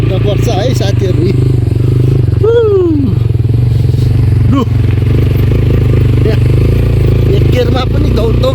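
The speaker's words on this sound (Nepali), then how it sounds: "एक गेरमा पनि दौगा तान्छ बाइकले" Motorcycle engine droning steadily as it climbs a rough mountain road toward Rukumkot in East Rukum, Nepal, pulling in a single gear. The engine is loud and close throughout, with a few brief tonal swells rising over it.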